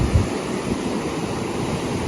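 Pacific Ocean waves wash against the shore at San Francisco in a steady, close roar of surf. Wind buffets the microphone over the constant, loud wash of water.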